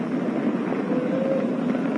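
A SpaceX Falcon 9 rocket carrying a crewed Dragon capsule in flight gives a continuous broadband roar, distant and steady, with a slight wavering rush and no voices.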